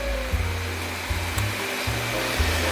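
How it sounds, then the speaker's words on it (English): A vacuum cleaner runs inside an EF Civic Si car interior with its seat removed, a loud steady whooshing hum whose low pitch shifts repeatedly as the nozzle moves around. "I'm going to get in here with a vacuum cleaner and clean all this nastiness up."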